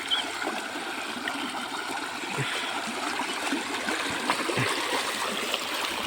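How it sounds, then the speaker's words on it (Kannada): Stream water flows in a village after morning rain, a steady close rushing and gurgling burble with small splashes, alone without voices. "ನೋಡ್ರಿ ಯಾವ ಥರ ಹೋಗ್ತೈತೆ ನೀರು"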